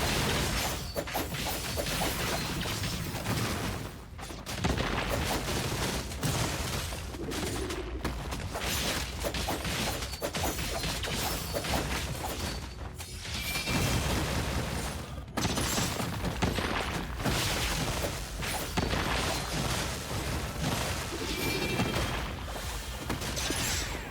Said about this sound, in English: This guy explodes at the beginning.